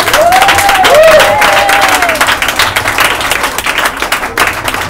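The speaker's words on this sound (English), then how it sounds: "You clap to the Lord." Church congregation clapping along during a prayer service, a dense, steady wash of applause filling the space, with voices rising and sliding over it early on.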